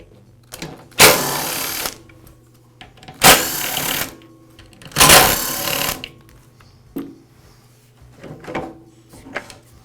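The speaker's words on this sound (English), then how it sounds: "The motor assembly is held to the rest of the saw with 4 screws. I'll go ahead and remove those screws now" A power driver backs out the motor assembly screws on a DeWALT chop saw, three loud close whirring bursts of about a second each, followed by fainter clicks and handling.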